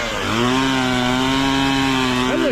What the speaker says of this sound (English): That's a cute little chainsaw.